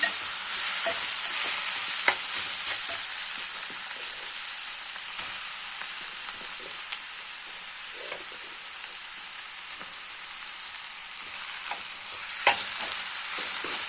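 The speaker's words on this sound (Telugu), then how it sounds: "ఇట్లా బాగా డీప్ ఫ్రై చేసుకోవాలండి." Amaranth leaves deep frying in hot oil give a steady hissing sizzle throughout, with occasional soft clicks of a spoon stirring the pan, close and even.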